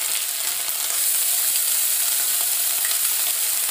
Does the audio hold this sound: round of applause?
no